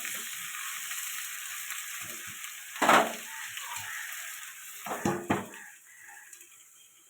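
Ridge gourd and potatoes sautéing together in a pan for a fish curry, a steady background sizzle broken by a few close scraping stirs and clanks of a spatula against the pan, no talking.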